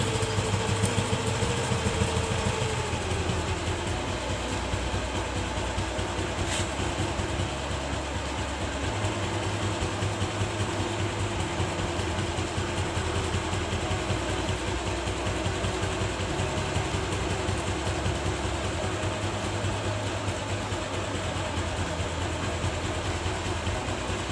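A TVS Jupiter scooter engine idles steadily during carburetor air-fuel mixture tuning, with a continuous buzzing drone that holds the same pitch throughout, close and unbroken, with no talking.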